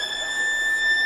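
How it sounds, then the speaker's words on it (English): A steady, sustained electronic tone sounds the half-time siren at a Leeds versus Castleford rugby league match, holding level over stadium background noise. "The siren."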